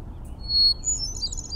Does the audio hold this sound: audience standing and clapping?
no